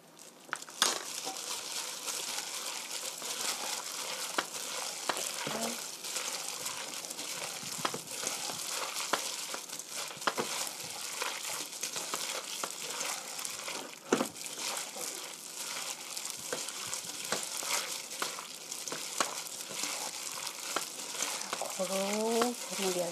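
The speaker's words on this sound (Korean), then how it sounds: "고루 버무려 주시고요" Seasoned cucumber being tossed by hand with gochujang, a steady moist crinkling and squelching that runs without a break throughout, with a faint voice now and then.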